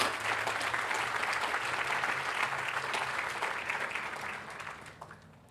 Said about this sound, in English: I think that deserves an applause for sure.